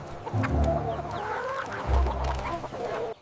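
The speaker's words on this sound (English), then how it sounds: "It is the chickens." Cartoon chickens cluck in short low bursts, two clear clusters of calls close by with a rooster-like tone, no talking.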